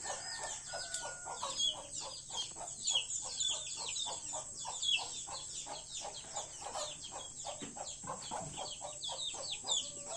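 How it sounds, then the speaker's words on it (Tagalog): Faint hens cluck over and over in a quick, uneven rhythm, mixed with soft bird chatter and ducks nearby in a backyard, over a low steady background hum. "may inahin doon na nag-iingay."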